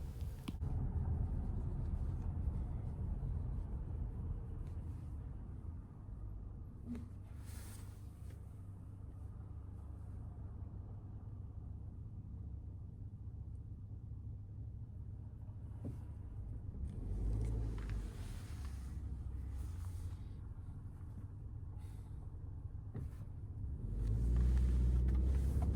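A 2024 Subaru Ascent Touring cabin at highway speed: a steady low road and engine rumble fills the interior throughout, swelling slightly near the end, with no talking.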